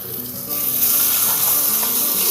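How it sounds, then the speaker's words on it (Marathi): Garlic sizzling in hot oil while cooking Maharashtra-style dal bhat chokha: a steady, loud, close hiss of frying that swells slightly after the first moment and holds throughout. "आता लागलीच आपण लसूण टाकून घेऊया."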